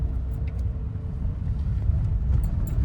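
A car engine pulls steadily during a driving lesson while shifting into second gear, a low, even interior rumble that builds slightly in loudness, with no speech heard.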